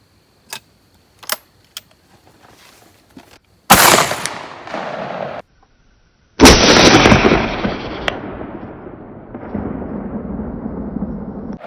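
A 10 gauge shotgun fires 2 7/8-inch sabot slugs at an outdoor target: after a few sharp clicks, two loud blasts boom out, each followed by a long rolling echo and decaying rumble.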